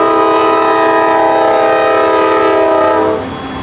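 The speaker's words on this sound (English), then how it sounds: "This is southbound train 175 approaching the Diamond, bound for NS Simpson Yard in Jacksonville" A southbound freight train, number 175, blasts a long, loud horn while nearing the CSX–Norfolk Southern diamond crossing at Crawford, Florida; the steady blare holds for about three seconds before dropping off, leaving the rumble of rolling cars.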